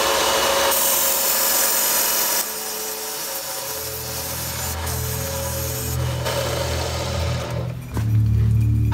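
Bicycle metal tubing is polished to bare, shiny metal before TIG welding, giving a steady, close abrasive rubbing and rasping with shifting texture throughout and a brief dip near the end.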